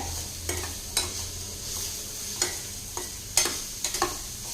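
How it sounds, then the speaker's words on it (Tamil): Cabbage fried rice is stirred in a hot pan, with a steady sizzle of frying broken by about ten scraping strokes of the spoon at an irregular pace. "கலந்து விட்டுக்கலாங்க"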